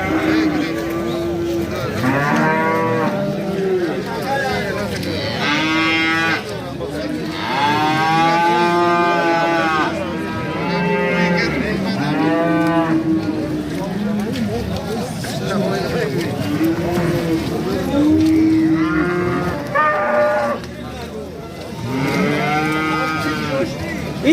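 Cattle at a livestock market in Nurونshoh, Mastchoh, moo repeatedly, loud and close, with several long calls overlapping each other above a constant murmur of crowd chatter and talk.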